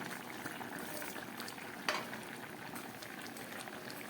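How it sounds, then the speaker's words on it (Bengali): A pot of Bengali shrimp and vegetable curry (chorchori) at a steady bubbling boil, a continuous close simmering hiss with one brief sharp clink partway through. "একদম ফুটে উঠেছে এবার আমি দিয়ে দিচ্ছি এর মধ্যে ভেজে রাখা চিংড়ি মাছ আর বড়িটা"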